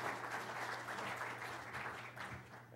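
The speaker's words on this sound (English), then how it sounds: "Can we give them a round of applause?" A crowd applauding steadily, dense clapping that holds for a few seconds and tapers slightly at the end.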